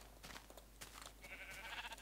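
A sheep in a video game bleats faintly among farm animals, with short soft calls scattered over quiet game background noise and a sharp burst at the very end.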